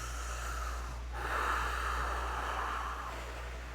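A man forcefully blows air out in one long, breathy exhale that swells and fades over a few seconds, close up, over a steady low hum with no talking.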